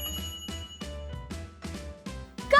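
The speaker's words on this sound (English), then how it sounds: "The timer wakes Redhead up in 2 hours." A kitchen timer rings in a rapid series of repeated bright metallic bursts, loud and close, with no voices.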